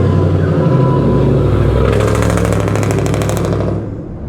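A loud car with an aftermarket muffler revs hard close by on a downtown street in historic York, South Carolina, a sustained roar with a rising raspy burst before dropping off at the end.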